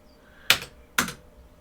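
Two sharp, close computer keyboard keystrokes, each a crisp click with a short tail, spaced about half a second apart in a quiet room.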